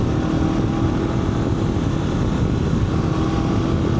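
A Honda NX500 motorcycle engine held at full throttle, accelerating through the top of its rev range; a steady, loud, continuous roar with rushing wind, no voices.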